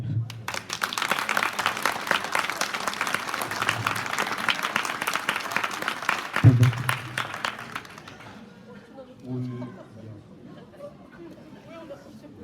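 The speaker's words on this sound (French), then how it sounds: "Je profite de l'occasion pour que vous puissiez les applaudir." An audience at an inauguration event gives the authors a dense, sustained round of applause that fades after about eight seconds into murmuring and light chatter.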